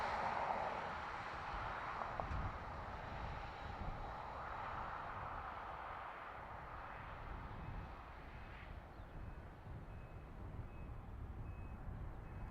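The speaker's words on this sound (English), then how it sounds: "British Airways from London City" A British Airways airliner in from London City rumbles at Dublin Airport, a faint, distant engine drone that slowly fades, with no talking.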